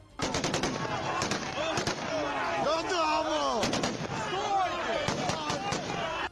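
Soldiers fire guns into the air in rapid, repeated bursts of sharp cracks, loud and close, over a din of shouting voices from a crowd.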